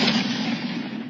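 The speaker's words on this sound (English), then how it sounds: "This home security camera in Bridgewater, New Jersey, actually caught the flash and then the sound of a meteor" A deep, rumbling boom from a meteor over Bridgewater, New Jersey, rolls on continuously for about a second, loud and broad like distant thunder or a blast, caught by a home security camera, with no voices.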